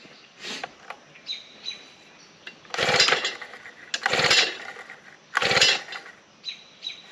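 Pull-start attempts on a new garden tiller engine with the choke on: three loud, close whirring cranking bursts, each a couple of seconds long, separated by quieter gaps with faint birdsong in the background, and the engine never catches.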